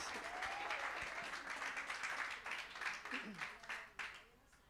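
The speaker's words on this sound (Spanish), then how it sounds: "Le pido un aplauso, muchas gracias." A church congregation applauding after a sermon, moderate scattered clapping that fades toward the end, with a voice speaking over it.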